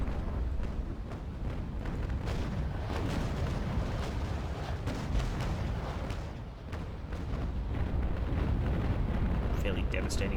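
Heavy naval cannon barrage from a sailing warship battle in Naval Action, a dense continuous rumble of booming shots and bursts with a voice talking over it throughout.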